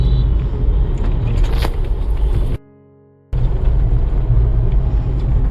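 A car engine rumbles steadily from inside while driving on a stormy, windy evening, with a dense low drone that cuts out briefly before resuming.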